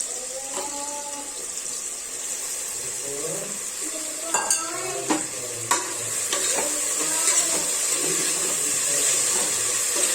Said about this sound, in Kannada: ಇದನ್ನು ಮೆಂತ್ಯವನ್ನು ಸ್ವಲ್ಪ ಹುರ್ಕೊಳ್ಳೋಣ, ಯಾಕಂದರೆ ಕಹಿ ಬರೋದಿಲ್ಲ.